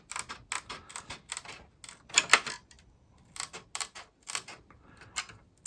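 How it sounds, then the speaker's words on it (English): Curved scissors snipping a GFRP sprint car body panel, a quick run of crisp, close clicking cuts in irregular bursts with short pauses between, no talking. "Now I use curved scissors for everything"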